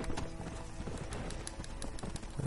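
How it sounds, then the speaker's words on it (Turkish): A horse gallops in Red Dead Redemption, its quick rhythmic hoofbeats clopping steadily and fairly quietly over a low game-world background. "Hadi koş bakayım, ne güzel atsın ya."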